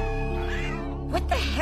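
Kittens meowing in an Amphibia cartoon scene, high thin mews rising and falling, a couple of short cries near the end, heard over a soft background hum without speech.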